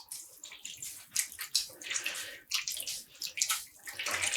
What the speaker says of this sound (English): I'm just squeezing out the water so I don't make a mess everywhere